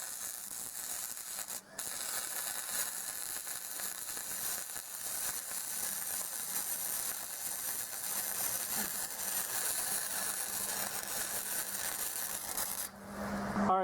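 Practice welds being laid on a trailer: a steady, crackling, sizzling hiss of an arc welder that continues for over ten seconds, fairly close and without speech.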